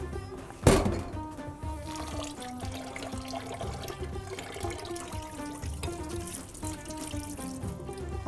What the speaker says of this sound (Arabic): رح نغسل الرز من النشويات لحتى تصير عندي المي شفافة